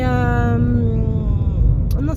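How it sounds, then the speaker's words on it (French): A small cat gives a drawn-out meow close by, its pitched cry fading over a rumble of traffic and background noise. "il y avait un petit chat"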